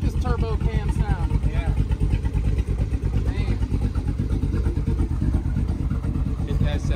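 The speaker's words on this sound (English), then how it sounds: "I like this turbo cam sound." A GMC Sierra regular cab with a swapped 6.2L V8, turbo cam and cut-off muffler rumbles loudly up close, a choppy, lopey idle pulsing steadily beneath people talking.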